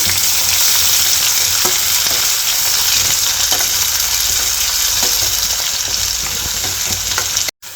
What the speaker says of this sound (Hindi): यहाँ पे हमारा अनियन थोड़ा भुनने लग गया है, मतलब कि थोड़ा सा फ्राई हो रहा है